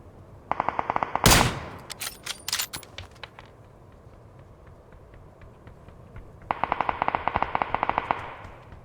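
Bursts of rapid automatic gunfire in PUBG on the Erangel map, with a loud single blast near the start, a lull of scattered shots, then another sustained burst toward the end.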